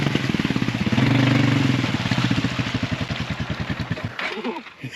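A four-wheeler engine on a farm runs hard and rough, its loud, rapid chugging pulses continuing for several seconds with popping backfires before cutting out near the end.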